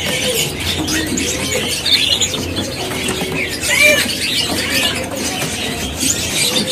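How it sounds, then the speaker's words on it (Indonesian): Bright, varied black drongo song with whistles and chirps over a busy, noisy bird market background, fairly close and continuous. "Ini ada burung nih dari Sri Gunting, posisinya lagi berbunyi"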